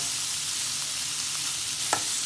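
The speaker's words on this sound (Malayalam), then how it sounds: "സിമ്മിൽ വെച്ചാൽ മതി നന്നായിട്ട് പതുക്കെ പതുക്കെ ഇളക്കുക" Paneer ghee roast frying in a pan over a low flame, with a steady soft sizzle and one brief scrape of a stirring spoon near the end. No voices.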